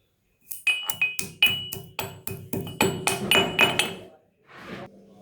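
Roasted cumin, black pepper and whole coriander being ground, heard as a rapid series of sharp pounding, clinking strikes, about a dozen close hits in steady rhythm, ending with a brief softer rustle.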